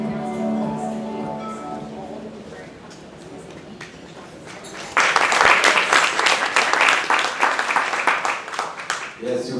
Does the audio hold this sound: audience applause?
yes